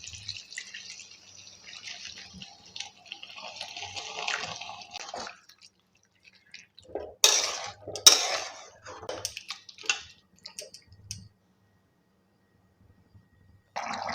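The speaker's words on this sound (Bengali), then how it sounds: "তাই আমি অল্প পরিমাণ জল দিয়ে দেব" Water poured into a hot pan of potatoes already fried in oil, giving a burst of bubbling, sizzling splashes with clinks of a utensil, loud and close, then settling into quieter bubbling and drips.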